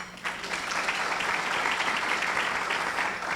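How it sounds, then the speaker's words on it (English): Steady applause from a large audience at a leadership awards breakfast, a dense wash of many hands clapping that swells in quickly and holds at an even level. "let's give them one more round of applause"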